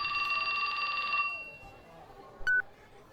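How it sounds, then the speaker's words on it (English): A telephone rings in the visual novel game 428: Shibuya Scramble, a bright electronic trill for about a second that fades into quiet, followed by one short beep. "His phone rang."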